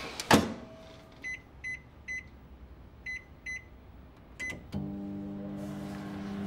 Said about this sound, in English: all I'm going to do is stroll over to the microwave and melt them